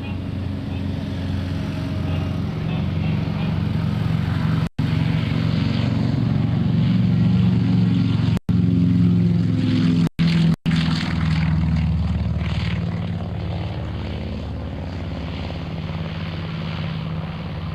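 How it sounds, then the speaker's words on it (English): A Lockheed Lodestar propeller airplane, a World War II transport, takes off with a steady droning engine roar that swells and then slowly fades, heard from the ground at an airshow. "On takeoff roll, by hand side, we have Lady Lodestar, the Lockheed Lodestar"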